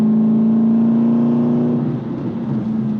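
A modified Aston Martin Vantage V8 CTR being driven, its V8 engine giving a loud steady drone that rises slightly in pitch, then eases off and settles back, heard from close by inside the car.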